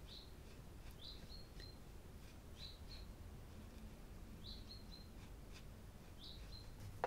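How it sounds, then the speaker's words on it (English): A finch sings outdoors in the Netherlands in fine weather, giving short bright chirped phrases at irregular intervals over a faint, steady background hush. Each bout has two or three quick notes, quiet and somewhat distant, with no talk. "It's a finch."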